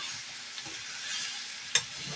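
Jackfruit curry is stirred in a pan after salt is added, a gentle continuous sizzle with soft scraping and one sharp clink of the utensil near the end, with no talk.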